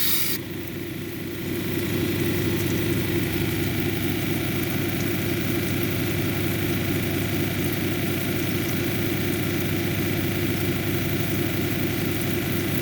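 A Paul Bunyan plume agate cabochon is ground on a 280 grit lapidary wheel. The machine gives a steady, droning whir and hum that starts almost at once and then holds constant.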